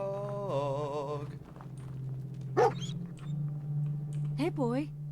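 In Fallout 4, the dog companion gives a few sharp, separate barks and yips over a steady low in-game hum, fairly close and clear, with a whining voice-like tone before them.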